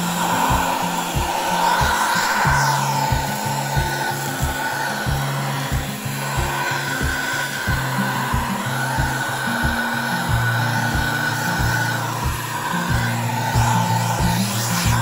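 Lotus 1,100-watt, 4-litre wet and dry vacuum sucking up sand and small stones from a small basin, a loud continuous motor whine with repeated rattling clicks of grit drawn through the hose.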